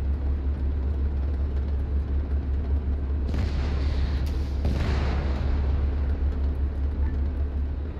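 Booming explosions in a Cold War military video game set in West Germany, two heavy blasts a little apart rising out of a steady low engine rumble, moderately distant with no talk.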